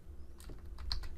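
Keys tapped on a computer keyboard while entering a short numeric password, a few soft close clicks in an uneven rhythm over a low steady room hum, with no voices.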